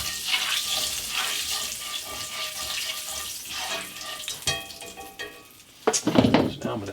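Rendered steak fat, olive oil and butter with seasonings sizzle in a pan, a continuous crackling hiss with occasional stirring clatter and a louder burst near the end.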